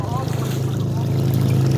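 A small wooden motorboat engine hums steadily with a low, droning tone, close and continuous.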